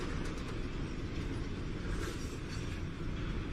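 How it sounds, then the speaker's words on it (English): Huge freight train wagons carrying pure copper roll through the Atacama desert, giving a steady, loud, continuous rumble with dense low-end rattle and no pauses. "And pure copper rolls out of the desert on huge, never-ending wagon trains."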